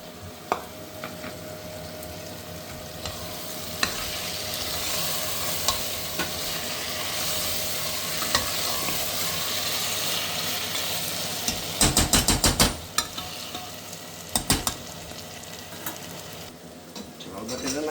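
Tomatoes are added to a pan and fry with a steady, close sizzle through the whole clip, with a few sharp clattering bursts of stirring or utensil contact near the end.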